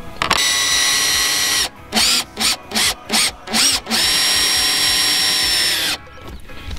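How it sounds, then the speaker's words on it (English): A power drill bores a hole for a RailBlaza mount, whining loudly at full speed, then pulsing in six short on-off bursts before a long sustained run and a final stop, close and alone. "First we're going to drill one hole."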